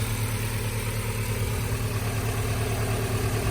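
A Nissan D21 pickup truck engine fitted with an aluminum radiator and electric fans idles steadily in the open air, a continuous low rumble with even vibration and no speech.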